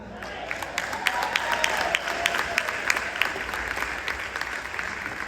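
An audience at a State of the City address applauds, a dense sustained patter of many hands clapping at moderate distance, filling the room with steady texture.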